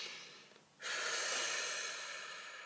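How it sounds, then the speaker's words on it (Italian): One long, deep breath taken in and let out slowly by a single person, a steady airy rush that swells suddenly and holds for nearly two seconds, close and soft with no talking. "facciamo un respiro."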